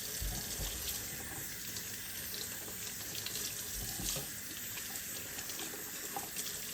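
A kitchen faucet runs steadily into a sink, filling it with cold water; a continuous close hiss and splash with no talking.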